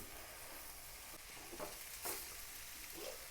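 Heated ground coconut paste stirred in a pan for a drumstick thoran, a steady quiet sizzle with a few soft spoon scrapes, no talk.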